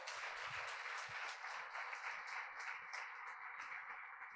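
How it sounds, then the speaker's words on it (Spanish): A church congregation gives a sustained round of applause during a discipleship service, steady dense clapping with no one speaking. "¿Le da un aplauso fuerte a Dios o no?"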